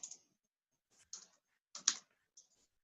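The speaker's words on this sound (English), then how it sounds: "go ahead and type your name in there for player 1" Several short bursts of keypresses on a computer keyboard as a name is typed for player 1 in an online four-in-a-row game, quiet clicks in separate clusters with silence between them.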